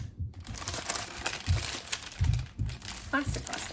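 Plastic packaging around a stitching chart being handled, with close crinkling and crackling that rises and falls in bursts while someone talks.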